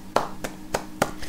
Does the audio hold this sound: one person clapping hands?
yes